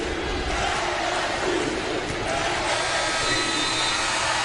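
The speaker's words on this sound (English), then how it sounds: "The crowd is up chanting LSU" A women's college basketball crowd at an LSU home game roars steadily in a loud, dense wash of cheering and chanting that carries on unbroken from start to finish.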